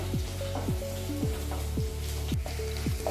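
Curry leaves crackle in hot oil for a Kerala-style sardine curry, a dense close sizzle with a steady run of short popping bursts about twice a second, heard alone.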